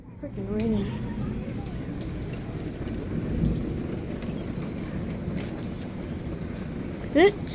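Steady rain falls with low rumbling thunder on a rainy day, a dense continuous wash heard close up with a brief louder knock near the end.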